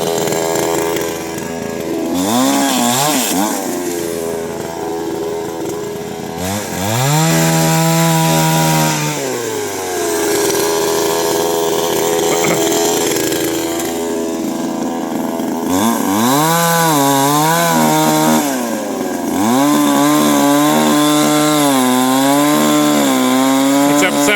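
A chainsaw runs loudly up close, its engine pitch rising and falling in repeated revs with brief dips between cuts, no talking.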